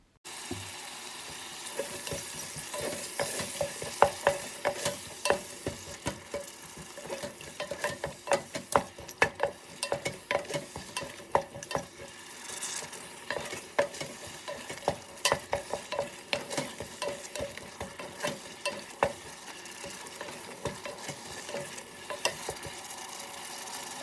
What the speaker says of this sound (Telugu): పెరుగు వేసి ఇప్పుడు మొత్తం బాగా కలిపెట్టాలి